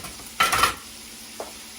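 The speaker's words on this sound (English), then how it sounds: "Just kind of give it a little stir." A brief stir of lentil stew ingredients in a pot gives one short scraping, sizzling swish, followed a moment later by a faint single tap, with no talking.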